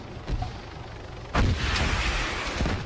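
In the video game Arma 3, an RPG fires with a sharp, booming blast partway through the clip. A fainter thump comes before it, and a low rumble follows.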